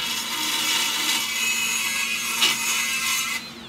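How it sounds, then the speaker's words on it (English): A dedicated cutter grinds a wedge into the cracked aluminum casing of a 22 hp Kohler engine, giving a steady, loud abrasive whine with a rough rasping edge that runs continuously and cuts off near the end. "with dedicated tools, for aluminum, like this cutter, you have to make a wedge in your casing."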